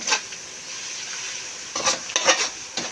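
Garlic frying in a pan gives a steady, close sizzle, broken by a few sharper bursts of stirring and spattering near the end.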